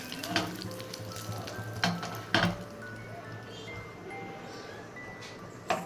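Oil sizzling and spattering as mustard seeds, dried red chilies and curry leaves fry for tempering, with a few sharp crackles and pops over a steady hiss, close by.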